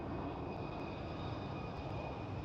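A KLM Cityhopper airliner at Schiphol Airport in Amsterdam gives a steady, moderately distant engine roar with a thin whine, continuous and without talk.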